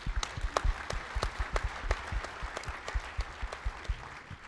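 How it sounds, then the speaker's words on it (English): Audience applause for staff of the Attorney General's office at a political talk: sparse, distinct claps from a modest crowd, each hand strike popping out as the clapping carries on steadily at moderate volume. "let's give them a round of applause for a great"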